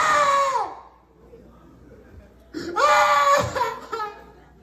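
A comedian vocally imitates women in a concert audience screaming, two loud, drawn-out shrill wails separated by a brief pause, performed close to the microphone.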